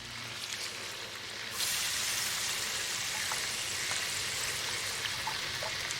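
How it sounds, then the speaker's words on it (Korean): A village woman deep-fries battered small river fish such as loaches and dolgogi on a stove, the oil hissing and crackling faintly at first, then surging into a louder, dense sizzle with scattered pops, no voices present. "마을 풍상 위에서 아주머니가 생선 튀김을 한다"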